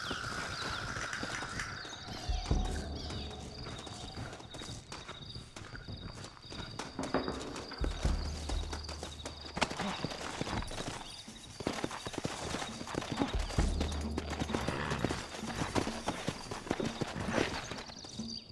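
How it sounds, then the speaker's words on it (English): Horses clip-clop in the video game Red Dead Redemption, with steady hoofbeats over a layered game soundscape and occasional low rumbles throughout. "Looks like Carlos left us some horses."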